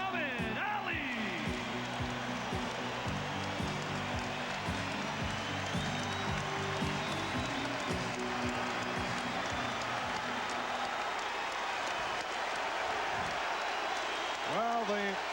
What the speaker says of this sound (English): the chant from this capacity crowd for Muhammad Ali